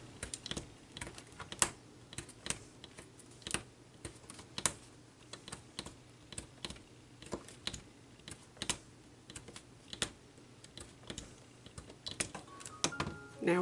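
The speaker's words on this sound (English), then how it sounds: "You're just going to go through and poke the holes." A push pin pokes holes through paper for stitching, making a long run of quiet, sharp ticking taps at an irregular but steady pace, close and alone without talk.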